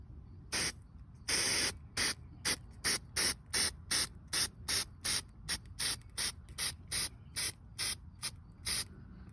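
Primer sprayed from an aerosol can onto a rusty car surface in short repeated bursts, about twenty quick hissing sprays with brief gaps between them, close and clear with no talk.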